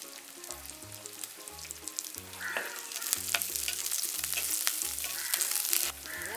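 Garlic and green chilies frying in hot oil, a busy crackling sizzle running throughout, with soft rhythmic knocks of a utensil in the pan beneath and no voices.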